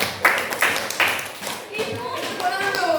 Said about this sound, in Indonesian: kasih aplaus dulu untuk kelompok pertama